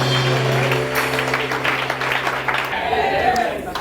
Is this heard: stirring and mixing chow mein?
no